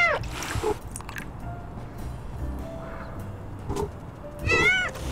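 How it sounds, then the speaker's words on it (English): An orange cat meows outdoors, several short calls near the start and a brighter, rising meow near the end, with background noise and someone talking between them. "Oh, there's the orange cat."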